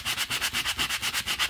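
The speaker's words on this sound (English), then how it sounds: "you can come along and sand this puppy" Paper edges in a junk journal are worked with a sanding block in steady back-and-forth strokes, about ten even rasping passes close up, alone.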